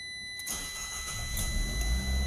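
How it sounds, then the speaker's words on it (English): An automatic Fiat car engine cranks and catches, settling into a steady rumble close by. "You start the car, everything lights up."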